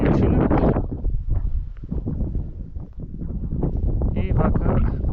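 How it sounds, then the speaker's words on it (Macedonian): Moderate wind blows over the mountain summit Chavka in fog and snow, buffeting the microphone in loud rough gusts while someone talks over it. "ветер малку со средна јачина"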